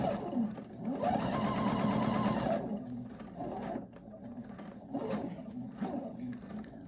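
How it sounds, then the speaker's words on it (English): A sewing machine stitches a quarter-inch seam on a rainbow sampler quilt block, running in a steady close whir for about two seconds, then in shorter stop-and-start bursts with brief pauses between. "And you're going to sew 1/4 inch."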